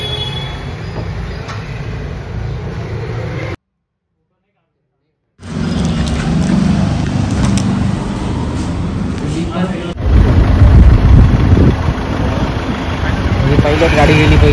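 A pilot car rolls along a busy Nashik street market, its engine a dense, loud rumble over constant crowd noise. The engine grows heavier near the end after a brief silent gap, with people talking nearby.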